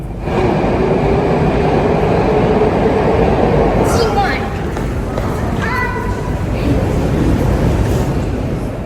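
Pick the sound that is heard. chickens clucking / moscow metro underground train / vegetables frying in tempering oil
moscow metro underground train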